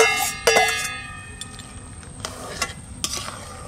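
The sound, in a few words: crabs being added and stirred in a sizzling pan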